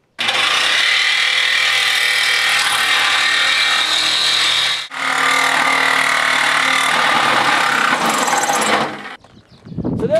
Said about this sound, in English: Okay, so I got my jigsaw here and I'm just going to insert it into the hole